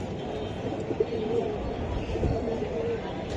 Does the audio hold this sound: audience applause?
no